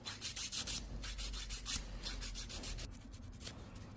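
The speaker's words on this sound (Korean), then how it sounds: "표면이 거칠어서 파일로 튀어나온 부분 좀 갈아주고요" A nail file grinds rough acrylic on a toenail in quick, close, rhythmic scraping strokes, each stroke a short rasp, with no talking.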